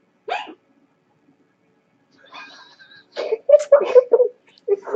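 A person hiccups once, sharply and close by, during a tabletop role-playing session, followed after a pause by several people talking.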